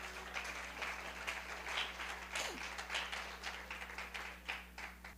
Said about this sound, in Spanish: Alguien debiera aplaudir bien fuerte